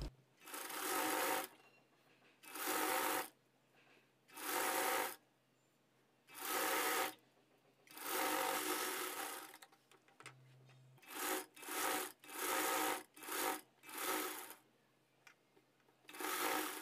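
A sewing machine stitches a hemming belt onto a 36-size boat-neck lined blouse, running in repeated bursts of about a second or two each, separated by short pauses, close and steady with no talk.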